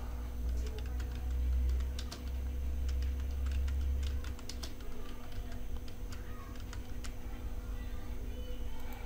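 Keystrokes on a computer keyboard while text is entered into a PDF form, a light irregular run of clicks over a steady low hum.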